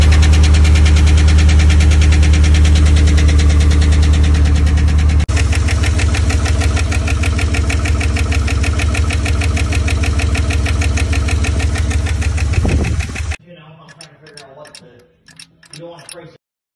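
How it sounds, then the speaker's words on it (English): Truck engine idling with a rapid, steady ticking from a collapsed lifter, loud and close for about thirteen seconds before cutting off, followed by faint voices. "What happened is I had a collapsed lifter. That's why it was ticking like that."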